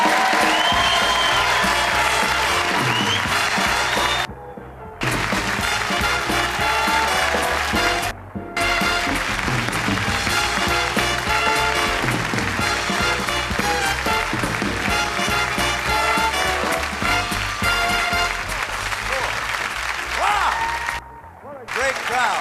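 A theatre audience greets comedian Bob Monkhouse's entrance at a 1994 stand-up show with loud, dense, sustained applause and cheering, breaking off a few times in brief gaps before swelling again, with music underneath.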